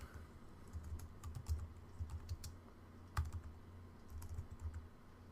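Quiet, close keyboard typing while entering a code comment during Android app development, irregular soft key clicks in short bursts over several seconds with one louder keystroke midway, no voice.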